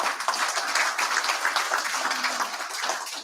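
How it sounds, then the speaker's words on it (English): Steady audience applause at an annual general meeting, a dense, even wash of clapping with no speech, lasting a few seconds. "Give them a big round of applause"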